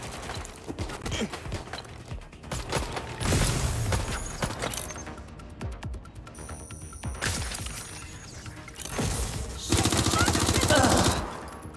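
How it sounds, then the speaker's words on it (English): Video game gunfire, dense rapid bursts of automatic shots mixed with shattering and mechanical impacts, loud and close, rising in intensity in waves with brief lulls between volleys. "I'm getting shot out here! I'm being suppressed!"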